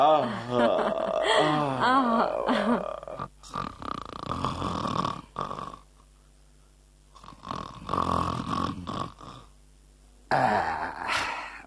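Man snoring after a meal in a Hindi radio comedy play, a few drawn-out rattling snores with snorts, separated by quiet gaps, mixed with speech at the start.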